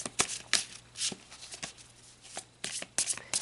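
Tarot cards being shuffled by hand in short riffling bursts, several quick papery flutters separated by brief pauses, close and crisp.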